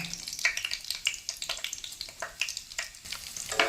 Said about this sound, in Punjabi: ਪਹਿਲਾਂ ਅਸੀਂ ਮਿਰਚਾਂ ਨੂੰ ਤੇਲ ਵਿੱਚ ਚੱਸ ਲੈਂਦੇ ਆ